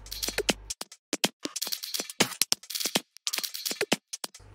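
Dry, glitchy clacking percussion in quick irregular bursts, sharp and clicky, with brief low thumps at the start and end.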